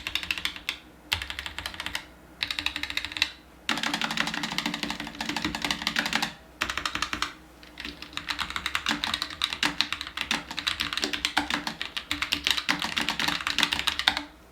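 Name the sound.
typing on Roccat Vulcan TKL Pro keyboard, red Titan switches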